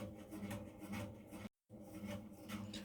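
Ingredients for a homemade hair growth oil being ground together, a close rhythmic rasping and rubbing in repeated strokes, briefly cut off by a short gap before resuming, with no voices.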